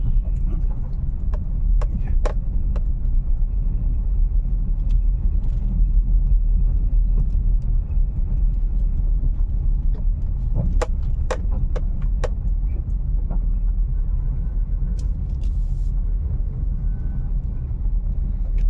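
Traffic on a congested road near Kanpur Central railway station during roadworks, a steady low rumble of engines with occasional horn-like tones and clatter, with someone talking over it.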